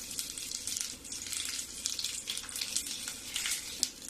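Whole spices including a small piece of mace, half a spoon of cumin and two small cardamoms dropped into hot oil, giving a soft, steady crackling sizzle with fine popping throughout, fairly quiet and without talk.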